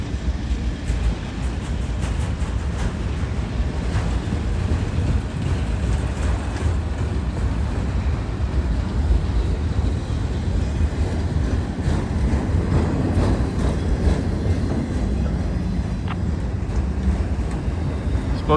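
A train led by a Seaboard locomotive rumbles past in heavy snow at diverging tracks, a continuous loud low chugging roar with wind buffeting the microphone, steady throughout with no clear voices.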